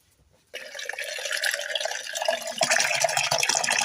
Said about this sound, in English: now I'm going to cover with water